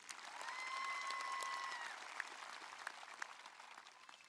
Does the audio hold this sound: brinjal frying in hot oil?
no